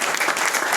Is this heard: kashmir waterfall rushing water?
no